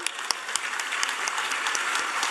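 A crowd at a Jain pichhika parivartan ceremony for Ganini Aryika Suyogya Nandini Mataji breaks into applause, a brief, dense wash of many hands clapping with a few sharp individual claps standing out.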